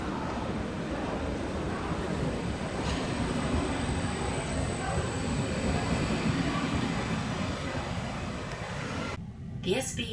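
Swiss SBB Interregio passenger train heard from inside the carriage, running toward Lausanne with a steady, dense rumble and rolling noise throughout, a voice announcement faintly carried over the constant din.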